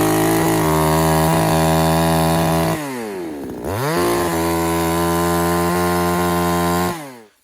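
A chainsaw fitted with a KazPro chain cuts through wood, its engine revving loud and steady, briefly dropping and winding back up midway, then tapering off at the end with no talk.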